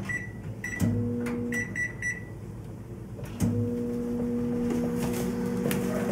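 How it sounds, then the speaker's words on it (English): A microwave oven hums steadily while melting butter for sliders, with a low motor drone that rises in two stages and short bright tonal beeps or clicks scattered over it; no talking. "throw this in the microwave and melt it down."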